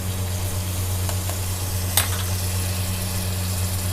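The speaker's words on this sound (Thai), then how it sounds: "เนี่ยผัดให้หอม" Steady, close sizzling of chili and aromatics being stir-fried in a small wok, with a brief metallic clank of a utensil partway through.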